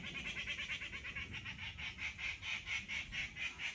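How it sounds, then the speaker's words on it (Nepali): Birds calling in a rapid, steady series of high chirps, repeating rhythmically over a low background rumble. "चरा धेरै कराउँछ यहाँ"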